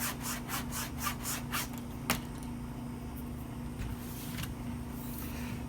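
A straight razor is drawn across a fine Scruple Works linen strop in a quick series of light rhythmic swipes, fading into a few softer strokes against a steady low hum.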